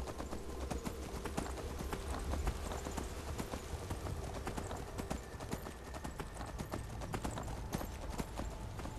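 Horse hooves clip-clop steadily on the ground in Skyrim, a dense run of close, even hoofbeats under continuous game ambience, with a faint whinny possible.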